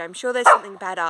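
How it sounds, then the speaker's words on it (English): A pet dog barks and yips several times close by, the short sharp barks mixed with a person talking over them. "that's my dog now barking because she's not getting attention"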